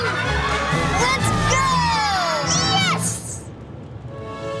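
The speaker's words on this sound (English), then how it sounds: "And the crowd goes wild." A crowd at a kids' baseball game cheers and shouts loudly with high children's voices for about three seconds, then the noise drops away quickly.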